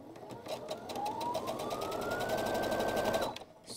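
Sewing machine stitching quilt blocks at a short 1.8 stitch length, a steady fast mechanical whir with a rising motor tone as speed picks up, stopping abruptly near the end.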